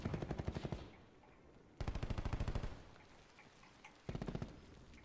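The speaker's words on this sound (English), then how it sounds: "Definitely heard that sniper go off," Automatic gunfire in a first-person shooter video game: three loud, close bursts of rapid evenly spaced shots separated by pauses, with no talk.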